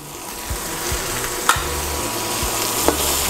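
Chicken curry with coriander powder and other spices sizzles steadily in a pan while a utensil scrapes and stirs in rhythmic strokes, close up, with a couple of sharper clinks against the pan and no talking.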